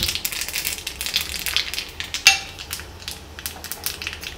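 Mustard seeds and a single dried red chili crackle and sizzle in hot oil, a steady close hiss with scattered pops and one sharp louder crack midway, no voices.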